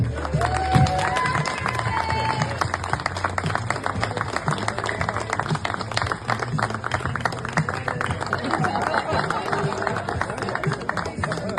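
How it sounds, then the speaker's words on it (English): An audience claps and cheers at a birthday gathering, with dense, sustained applause and crowd noise filling the whole stretch. "If we all want to give a round of applause."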